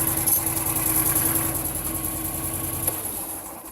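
An HDX auto engine idles at a steady, low rumble after a throttle cam adjustment, with an even mechanical pulse and a faint high whine, close up with no talking.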